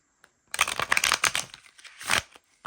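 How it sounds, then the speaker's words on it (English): A new, still-stiff tarot deck shuffled close up, a quick riffling flutter of stiff cards lasting a couple of seconds, then a brief tap. "I bet they shuffle nicely as well"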